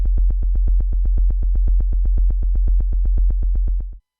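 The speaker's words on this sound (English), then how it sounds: "Right now my oscillator is playing a simple sine wave" A synthesizer oscillator plays a simple, low sine-wave tone. It pulses in a fast, even rhythm of roughly eight beats per second, holds steady and loud, and stops abruptly after about four seconds.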